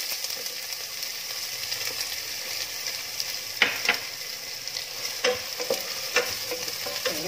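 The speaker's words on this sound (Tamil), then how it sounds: "வெங்காயத்தை நல்லா வதங்குற வரைக்கும் இந்த மாதிரி நம்ம வதக்கிறேன்" Finely chopped onions sautéing in a pan until golden for pepper chicken, giving a soft continuous sizzle with a few sharp scraping stirs near the end, close but fairly quiet, with no voices.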